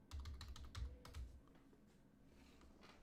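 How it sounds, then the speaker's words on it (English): Quiet clicking of keys as someone types a short word on a computer keyboard, a brief run of soft taps heard alone. "I'm just going to type hello."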